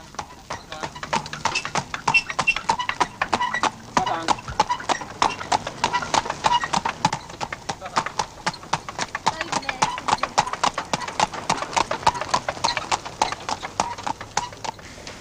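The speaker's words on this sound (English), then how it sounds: "Andalusians make excellent harness horses, noted for their showy, proud, high stepping action." Andalusian harness horses with showy, high-stepping action trot in a training gig at a stud, hooves clip-clopping in a steady, rapid rhythm throughout, close and clear, with a brief whinny and some speech in the background.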